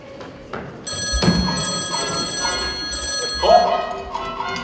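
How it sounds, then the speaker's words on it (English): A telephone rings in a Chitty Chitty Bang Bang scene, a bright metallic bell trill starting after a thump and repeating, with a voice briefly breaking in over the ringing. "It's the phone! The spy phone!"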